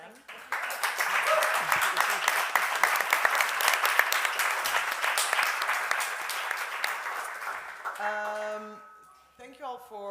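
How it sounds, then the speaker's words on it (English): Audience at a solidarity talk event applauding the organizing team, a long, loud, steady round of clapping that fades near the end as a voice begins speaking. "An applause for them."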